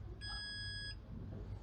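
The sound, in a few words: hotel door lock giving a long beep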